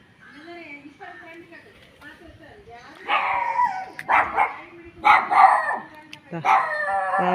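A dog barks and yelps close by, first in softer whines and yips, then in loud, repeated barks.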